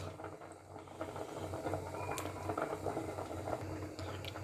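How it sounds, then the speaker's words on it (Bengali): Rice boiling in a pot on a home stove, a steady bubbling and gurgling wash of liquid with soft pops throughout, close and moderately loud with no voices. "বন্ধুরা এদিকে রান্না হইতাছে ভাত"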